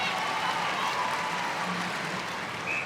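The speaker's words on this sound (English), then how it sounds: "Steph Wood applauds." Applause at a netball World Cup match between Australia and Sri Lanka spreads through the crowd as a steady, moderately loud patter of clapping that carries through the whole stretch, mixed with general crowd noise.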